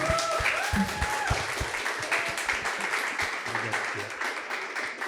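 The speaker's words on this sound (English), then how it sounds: "Let's give them a round of applause, please." A conference crowd applauds a panel at a digital conference, dense continuous clapping at close range with faint voices and brief murmurs mixed underneath throughout.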